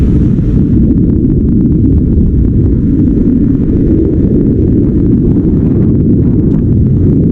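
A strong headwind against a fat bike rider buffets the microphone in a continuous low roar, loud and unbroken throughout.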